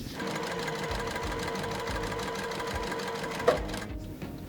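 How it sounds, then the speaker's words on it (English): Sewing machine stitching quilt squares straight along a marked line, a steady continuous rapid needle chatter close up that runs for several seconds, then stops with a soft click and handling noise. "I'm gonna sew directly on that line"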